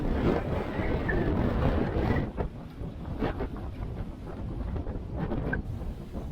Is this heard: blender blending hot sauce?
no